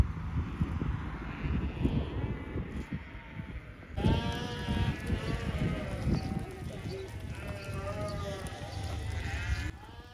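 A large flock of hundreds of sheep crossing a road near Mont Saint Michel, many overlapping bleats rising and falling at close to middle distance, busiest in the second half, with a steady low background rumble.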